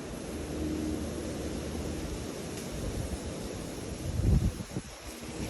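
Strong wind gusting across an open fish pond in Thailand, a continuous roaring rumble buffeting the microphone, swelling into a louder gust near the end.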